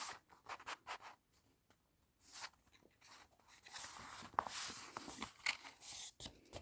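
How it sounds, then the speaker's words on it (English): Paper being flipped and folded along a score line while making a gift box, soft scraping, rustling and creasing sounds in irregular bursts, close and fairly quiet with brief pauses. "Flip it over and fold it up to the score line."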